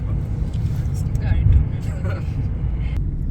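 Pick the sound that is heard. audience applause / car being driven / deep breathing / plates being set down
car being driven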